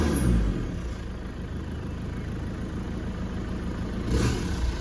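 A Ford Ranger engine runs rough with a bad misfire, a close, steady low rumble with an uneven, stumbling texture and a brief swell near the end, no voices present.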